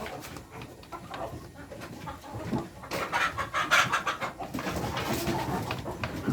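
Sentul free-range village chickens in a coop at feeding time, a busy mix of clucks and bird calls that grows louder and denser partway through, with no voices.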